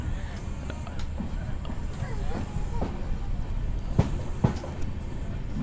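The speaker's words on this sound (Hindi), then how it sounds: "बक्सर से ट्रेन डिपार्चर हो रही है" Amrit Bharat Express pulling out of Buxar station, a steady low rumble of rolling wagons with a few sharp clacks of wheels over rail joints, continuous and fairly loud, with faint voices mixed in.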